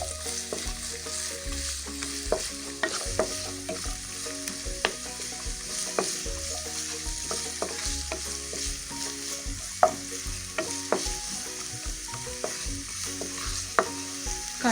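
Finely chopped onions sizzle steadily in hot oil for a cutlet filling, with a constant frying hiss broken by soft clicks and scrapes of a spoon stirring the pan.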